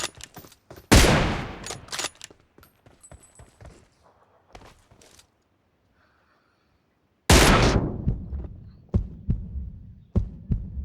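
Gunfire in the video game PUBG on the Erangel map, a heavy burst of shots, then scattered single reports and a short silence, then another loud volley followed by more shots, close and punchy, with no talking.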